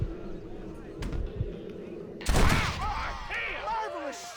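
A single sharp gunshot blasts out in the Red Dead Redemption video game, loud and close against quiet ambience, followed by someone speaking.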